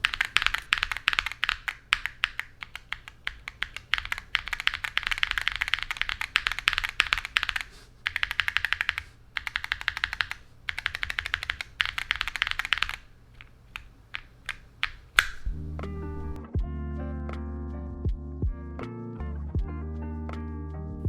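Steady, fast typing on a mechanical keyboard fitted with KiiBOOM linear switches, close and clacky with dense rapid keystrokes, gives way near the end to a bright, tonal music passage.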